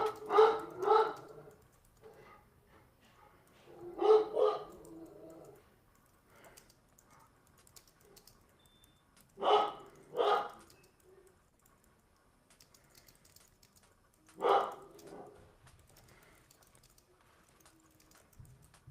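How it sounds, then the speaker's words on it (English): A dog barks in short paired bursts, each double bark separated by several seconds of quiet. The barks are fairly close and moderately loud, with no talk over them. "I've mostly been ignoring the dog barks"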